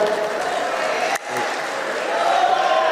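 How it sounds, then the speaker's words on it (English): An audience at a party political gathering breaks into sustained applause and cheering, a steady wash of clapping with a brief dip midway, and voices mixed into the crowd noise. "Round of applause, tafadhali."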